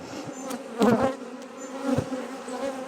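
A honeybee swarm housed three days earlier, clustered and hanging on the hive frames, gives a steady, close, droning buzz that rises briefly in intensity, with no voices.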